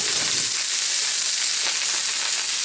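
Asparagus hitting a hot pan of melted butter, a steady, loud broadband sizzle that holds evenly throughout with no talking.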